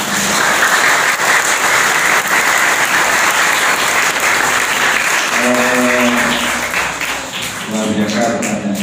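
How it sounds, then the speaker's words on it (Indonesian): Audience applause at an Islamic boarding-school talk, dense sustained clapping from a crowd that fades toward the end as a voice starts speaking over it. "Kasih tepuk tangan dulu."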